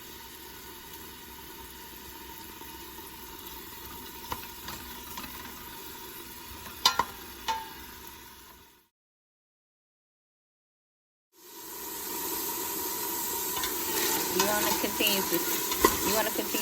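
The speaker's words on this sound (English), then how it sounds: "I use olive oil to saute your vegetables and your sausage" Vegetables, garlic and sausage sauteing in hot olive oil for Southern red beans and rice, a steady close sizzle with scrapes of stirring and a few sharp clinks, broken by a brief silent gap before the frying resumes louder.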